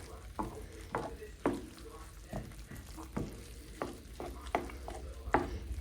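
Finely chopped mushrooms and peppers get stirred into food frying in a pan: a regular run of utensil scrapes and clacks over a constant sizzle, close by, with no talking.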